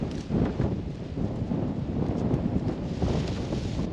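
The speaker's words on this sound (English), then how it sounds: "The wind is blowing today." Wind gusting across an open field being cleared of rocks, a steady broadband roar buffeting the microphone with swells of rustling, close and continuous with no voices.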